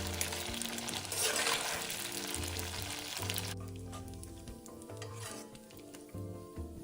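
Dried tofu deep-frying in a few hundred millilitres of hot oil, a dense close sizzle that thins out partway through, with soft stirring knocks and occasional utensil clinks.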